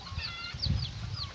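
Pet hen clucking just after being caught, a short burst of agitated clucks and squawks close by over rustling handling noise.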